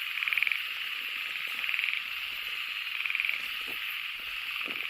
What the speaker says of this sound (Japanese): あれもカエルか。